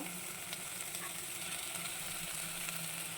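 Paneer cubes frying in oil in a pan for veg biryani, giving a soft, even sizzle that hisses steadily throughout at low volume.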